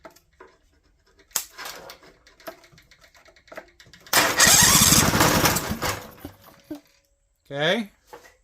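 An 18 hp Vanguard engine is cranked over: a burst of loud mechanical churning lasts a couple of seconds, preceded by scattered clicks and handling noises and followed by a short whirring burst, with no running catch.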